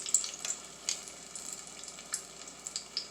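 Ripe plantain slices frying in pooled oil in a pan, a faint steady sizzle with sharp little crackles and pops scattered throughout.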